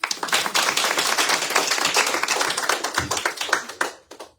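An audience at a morning religious discourse program clapping together, a dense burst of hand claps close and fairly loud, sustained for several seconds before thinning out into a few scattered final claps.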